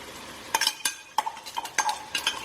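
A utensil stirs a ground spice mix into chicken frying in a pan for dry pepper chicken, giving quiet, irregular scrapes and clinks over a faint sizzle, with no voices.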